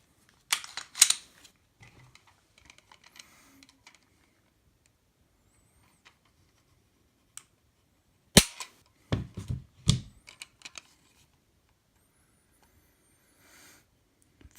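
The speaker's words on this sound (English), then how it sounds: "now let's do a trigger pull on the Zev Fulcrum." Sharp dry clicks from a Zev Fulcrum pistol trigger being pulled, fitted with a race connector and Zev springs, come as a few isolated snaps with near silence between them, several bunched close together near the middle.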